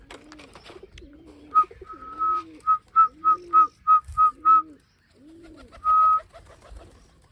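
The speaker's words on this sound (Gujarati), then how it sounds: "તો મિત્રો કબૂતર આવવા માંડ્યા છે." Pigeons coo nearby in a series of short, repeated soft calls, a few longer drawn-out coos at the start and end, with no talking.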